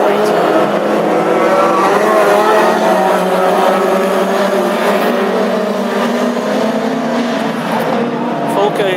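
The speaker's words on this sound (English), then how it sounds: "We're away and racing with Roger Light leading it down the home st" Classic hot rod race cars at Birmingham roar away down the home straight in a heat, a loud, continuous engine drone with shifting pitch as the pack passes, while a commentator talks over it throughout.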